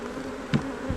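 Honey bees buzzing during a winter bee yard inspection of a weak hive, a close steady drone lasting about a second with a brief louder pass of a bee near the microphone.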